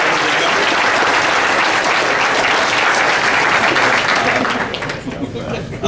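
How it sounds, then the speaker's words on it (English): A crowd at a brewers' beer event gives sustained, dense applause for the brewers, loud and even throughout before tapering slightly at the end. "a quick round of applause for the brewers behind me"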